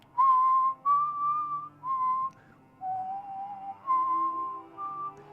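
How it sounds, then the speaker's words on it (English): A person whistles a slow tune alone, a series of clear sustained notes separated by short breaths, close and moderately loud. "Then I'm just going to whistle."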